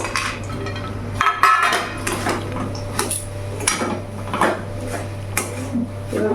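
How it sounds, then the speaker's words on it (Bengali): A spoon scrapes and clinks in a pan as banana flower curry with fried peanuts is stirred over a raised gas flame, steady metallic scraping with a low hum underneath and no talk. "ভালো করে নেড়ে ছেড়ে আমি আরও কিছুক্ষণ একটু ভেজে নেবো"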